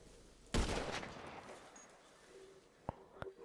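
A sniper rifle shot in GTA V cracks loudly once and decays, followed later by a couple of fainter, sharper shots, with quiet game ambience between them.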